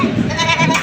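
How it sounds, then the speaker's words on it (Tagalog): A goat bleats loudly and close by in one short, wavering cry at a livestock market in Padre Garcia, Batangas. "Dalawang kambing na ito."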